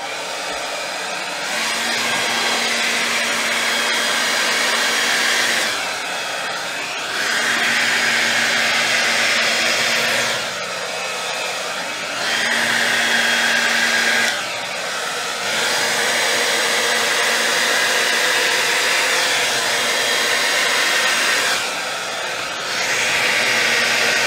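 A hair dryer blowing wet acrylic paint for a Dutch pour: a loud, steady close whoosh that cuts off briefly and restarts several times.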